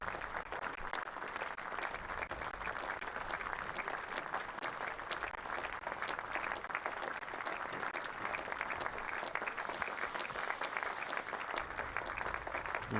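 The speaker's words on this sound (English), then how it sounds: "we'll let you hear the applause for David Beddingham as he leaves the field" Crowd at a county championship cricket match applauding a batsman as he leaves the field, a long, even, distant-sounding spread of clapping that holds steady throughout with no commentary over it.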